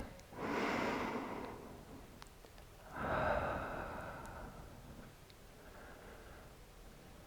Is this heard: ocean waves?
no